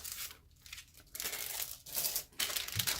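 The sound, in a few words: clear plastic envelope crinkling while handled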